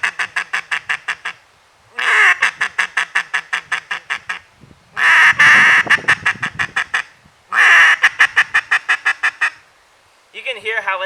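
A hand-blown duck call gives a hunter's laugh: several runs of rapid, choppy quacking notes that start high and bounce downward, separated by short pauses, loud and close. A human imitates the duck through the call.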